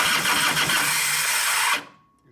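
A 1989 Harley-Davidson Softail with a 93ci panhead stroker motor cranks on its starter with a faulty Bendix, a loud steady mechanical whir that cuts off abruptly without the engine firing.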